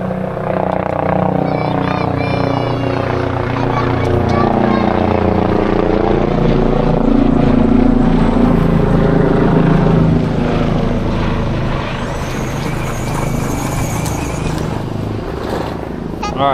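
A helicopter drones overhead with a throbbing engine and rotor sound that swells and fades, while people talk nearby.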